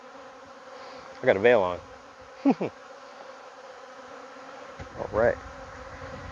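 Honey bees buzz around a beekeeper at an open hive in a constant, close drone, while someone speaks briefly in short phrases over it.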